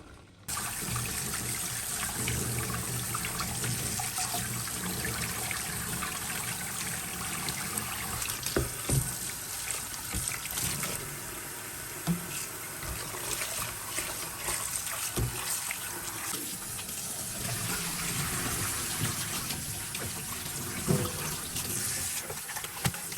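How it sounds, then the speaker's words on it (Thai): Boiled mixed mushrooms rinsed in cold water in a kitchen, a continuous close splashing and trickling stream with occasional clunks of handling, running without talk. "ล้างน้ำเย็นนะคะประมาณ2-3รอบ เพื่อให้สะอาดมากยิ่งขึ้นนะคะ"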